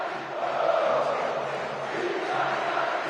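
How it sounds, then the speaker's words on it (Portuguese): Flamengo football supporters chanting for Gabigol, a broad, steady crowd roar with faint sung chanting heard from a distance, with no one speaking over it. "Fica Gabigol, grita a torcida do Flamengo"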